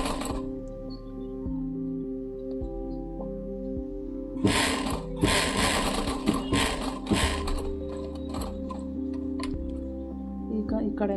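A sewing machine stitches a pocket onto a child's pant in bursts of rapid mechanical whirring, several short runs separated by pauses, with a steady motor hum underneath.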